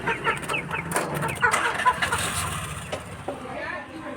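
Country chickens cluck and squawk intermittently nearby amid background movement and faint voices.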